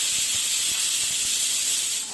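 A pressure cooker full of chicken yakhni hisses steam, a loud, steady, close rush that runs without a break and fades at the very end.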